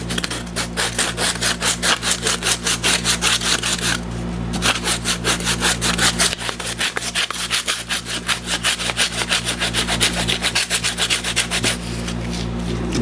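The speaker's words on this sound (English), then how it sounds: "This Tech cork does sand a bit different than regular natural cork." Tech cork on a 1925 Holton alto saxophone is sanded by hand, a steady rapid back-and-forth rasping stroke repeated close up for the whole stretch, with a brief pause partway through.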